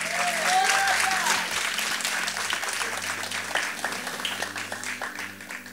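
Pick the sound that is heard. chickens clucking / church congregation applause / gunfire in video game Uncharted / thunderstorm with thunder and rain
church congregation applause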